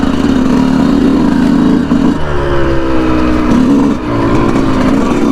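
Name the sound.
Yamaha YZ125 two-stroke dirt bike engine revving while riding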